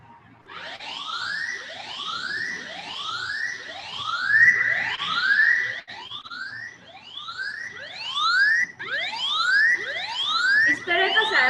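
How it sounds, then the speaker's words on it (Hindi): A phone anti-theft app sounds its siren alarm: a rapid series of rising electronic whoops repeated about twice per second, loud and close, with brief breaks between bursts. "इस तरह का सायरन उसमें बज जाएगा।"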